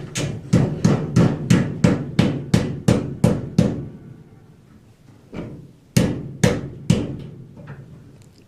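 A hammer strikes a nail during repair work on an old leaking water pipe, about a dozen sharp evenly spaced blows, a short pause, then several more loud close hits.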